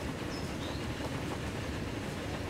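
High-speed rail train running along a lakeside line in Transport Fever, a steady close rumble of rolling wheels with faint clickety-clack, continuous and even throughout with no talking.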